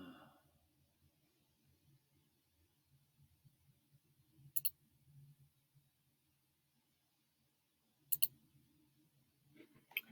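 Computer mouse clicks, two or three sharp isolated taps spaced seconds apart in a quiet room, faint low murmur between them.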